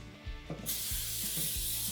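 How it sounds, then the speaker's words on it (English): Non-stick cooking spray hissing from a can into a pan, a steady close hiss that begins after a few faint clicks and rattles and runs without talk. "make sure you spray it pretty lightly with non-stick spray"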